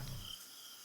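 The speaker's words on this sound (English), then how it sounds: "finally crickets chirping brought me back to reality" Crickets chirp in a steady, faint, continuous trill across a quiet evening scene from the visual novel game Everlasting Summer, with no voices.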